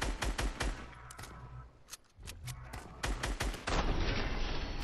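Dense bursts of Fortnite video game gunfire, rapid cracks in quick clusters with a brief lull midway, then heavier sustained shooting near the end.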